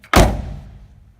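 Door of a 1978 Datsun 280Z shutting once, a single solid close thunk that rings out briefly and decays, heard near with no talking.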